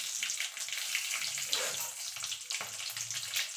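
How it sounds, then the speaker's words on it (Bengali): Nigella seeds and two green chilies hitting hot oil as a tempering for a chili gravy, giving a close, continuous crackling sizzle with brief sharper spits. "ফোড়নে দিয়ে দেবো কালো জিরে,"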